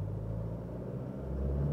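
A 2024 Toyota HiLux GR Sport pickup accelerating hard on a 0-100 run, a steady low engine rumble and road roar heard from inside the cabin, rising slightly toward the end, without any talk.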